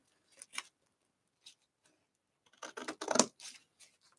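Scissors snip through sticker paper in short, quiet cuts: a couple of isolated snips, then a denser cluster of crisp cuts near the end, close up and alone.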